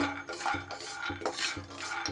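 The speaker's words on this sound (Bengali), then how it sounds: "শুকনো খোলায় নাড়াচাড়া করে ভেজে নেব" Raw peanuts rattle and scrape as they are stirred around a hot dry pan, with repeated close clattering strokes and no voices.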